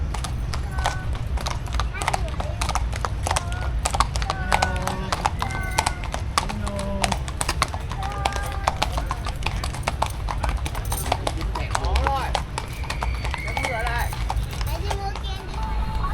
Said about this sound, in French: Là, il y a les chevaux.